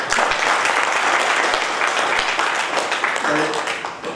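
Sustained applause from the crowd at an inauguration ceremony for a regional Christian organisation's board, loud and steady throughout, fading slightly toward the end with a faint voice or tone underneath.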